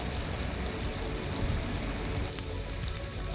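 Onions and tomato fry in a pan for chicken curry, producing a dense, steady crackling sizzle like light rain that holds at an even level throughout, with no talk.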